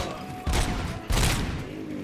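Two separate loud bursts of gunfire in RoboCop: Rogue City, each a short blast about half a second apart, close and heavy over a quieter background, with no talking.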